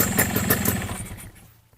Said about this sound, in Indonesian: Siap digas banget motor ini pokoknya.